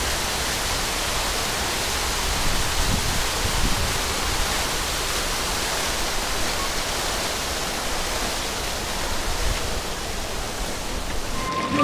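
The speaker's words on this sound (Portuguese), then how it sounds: "A água tá indo daqui pra cá." Water flows steadily near Red Square in Moscow, a continuous, even rushing hiss throughout, with no voices.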